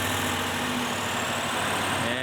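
A BMW twin-turbo V8 with a cracked engine runs with a loud, dense, steady rumble and whine, close up, with a voice faintly underneath.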